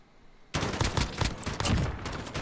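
Rapid bursts of gunfire from a 5v5 tournament shooter match ring out loud and close, a dense fusillade of overlapping shots after a brief quiet start, with no talking.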